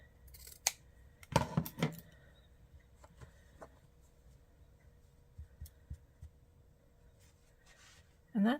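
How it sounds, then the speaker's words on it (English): Scissors snip through fabric while a cross-stitch piece is finished, with a cluster of close, sharp cuts early on, then faint handling noises and a final soft thump. "I'm just going to cut off a little bit"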